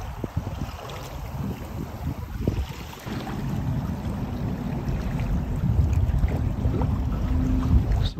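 A sailboat under way on Lake Michigan, with steady wind rush and water washing against the hull that grow louder and fuller toward the end.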